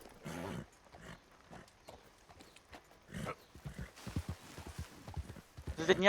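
A horse in Red Dead Redemption 2 gives snorts and hoof clops in a few separate bursts, with quiet gaps in between and someone talking over part of it.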